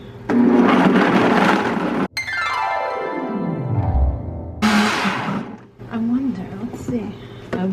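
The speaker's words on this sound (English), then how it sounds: "I'm going to take this over to the blender." A blender whirs through a vegan cheesecake filling thick with nuts, running loud at close range, winding down with a falling pitch, then starting again, with someone talking in between.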